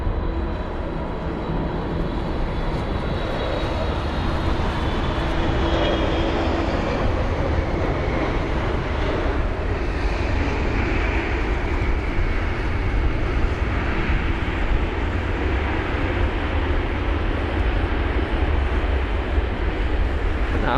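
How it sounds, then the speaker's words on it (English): A Boeing 777 arriving from Los Angeles at London Heathrow in stormy weather, a loud, continuous broadband roar of jet engines that holds steady throughout with no talk. "That was the 777 for you."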